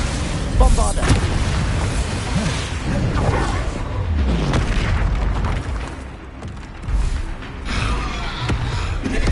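Bombarda blasting spells detonate in Hogwarts Legacy, heavy booming explosions bursting loudly amid a chaotic mix of combat effects and overlapping voices.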